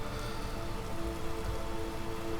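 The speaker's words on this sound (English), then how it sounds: "Oh, it's raining as well." Steady rain in the video game Skyrim, a soft continuous hiss of falling drops with a low rumble beneath, even and unbroken.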